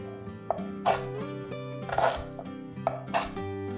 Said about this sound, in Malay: serai potong 2